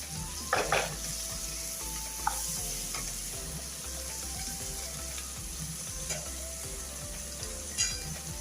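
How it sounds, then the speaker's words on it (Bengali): Okra frying in a pan, a steady close sizzle throughout with occasional stirring scrapes and clinks, no talk. "ভেন্ডি ভাজি বসাই দিই"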